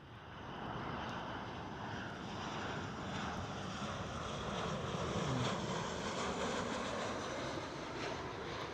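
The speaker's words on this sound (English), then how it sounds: "Transavia 737." A Transavia Boeing 737 passing at Amsterdam Schiphol, its engine roar a steady broadband rumble mixed with wind noise on the microphone, sustained and fairly loud throughout with no one speaking.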